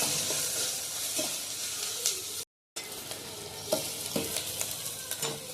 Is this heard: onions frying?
yes